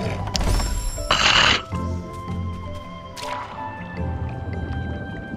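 A character in Ori and the Blind Forest splashes into water, a loud burst of splashing that quickly fades, followed by quieter dripping and game ambience.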